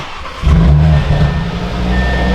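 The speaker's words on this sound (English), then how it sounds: "let's go ahead and fire up the car" A 2024 Audi RS3 (8Y) engine cranks and catches at about half a second, then settles into a steady, throaty idle with a deep exhaust rumble, close by.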